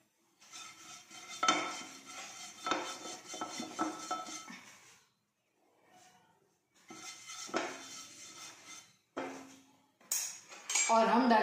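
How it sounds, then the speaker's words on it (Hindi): A brush working olive oil across a hot pan, brisk bristly scraping strokes with metallic knocks in bursts separated by short pauses, ending in clattering utensil sounds. "अब हम एक गर्म पैन में ब्रश कर लेंगे ऑलिव ऑयल।"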